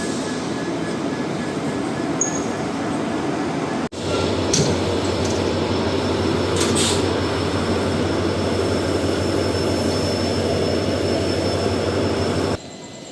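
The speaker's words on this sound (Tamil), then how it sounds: "WAG7ஓட காசியாபாத் அந்த ஷெட்டில் இருக்க லோக்கோமோட்டிவ் தான் இன்றைக்கி நம்மளை லீட் பண்ணி கூட்டிகிட்டு போகுது" An express train hauled by a WAG7 locomotive between Madurai and Punalur, a steady loud rolling rumble heard from onboard with a low engine drone, a few sharp clanks, and a brief thin whistle-like tone.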